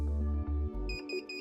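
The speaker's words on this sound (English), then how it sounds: "The operator body resistance channel will alarm if resistance measures above 10 megohms." A WS Aware workstation monitor sounding its operator body resistance channel alarm: a steady low buzzing tone broken by short gaps, then several quick, bright, high electronic beeps, close and clear.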